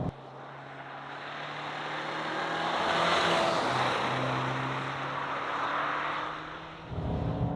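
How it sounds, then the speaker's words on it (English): A Mini Countryman JCW laps a race track, its engine note swelling as it accelerates, easing off briefly near the end, then picking up again, with no one speaking. "I'm going to do a lap of the track here."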